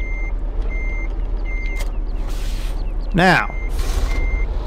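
Kenworth truck in the Farming Simulator 15 game sounding its reversing alarm, evenly spaced high beeps repeating, with a short rising horn-like whine and someone speaking briefly over steady engine rumble.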